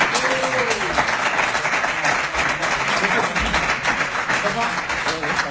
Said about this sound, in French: applaudit encore pour notre candidat